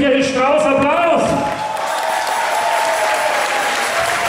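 Audience applause for a technician at a 2014 witches' carnival warm-up, loud and dense clapping filling the hall, with a few voices over the opening second before steady applause carries on.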